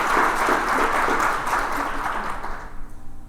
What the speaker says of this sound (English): we can have an applause for that